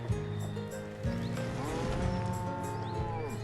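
Cows mooing in a video game, several drawn-out lowing calls that overlap and follow one another over a few seconds, fairly quiet, with no talk.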